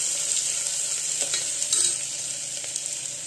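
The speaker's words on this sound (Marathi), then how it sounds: "कांदा चांगला परतून घ्यायचा" Onion frying in a pan for a village-style Maharashtrian sandge vegetable curry, an even close sizzle with a few soft stirring scrapes, no voices.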